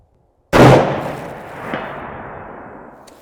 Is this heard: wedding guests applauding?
no